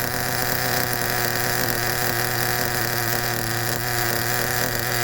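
HPI Super Nitro RS4 Alfa Romeo RC car with an OS nitro engine idling, a steady, continuous buzzing drone that is loud, close and unchanging throughout.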